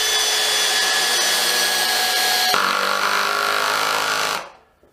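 A Hitachi DV18DBFL2 cordless drill works on screws, whining loudly and steadily for several seconds, dropping in pitch partway through, then spinning down and stopping.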